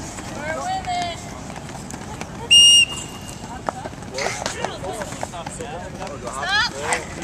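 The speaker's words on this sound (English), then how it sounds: "The whistle blows, skaters!" During a school physical education skating class, a short, sharp whistle blast cuts through midway, loud and near, amid voices and the scraping movement of skaters.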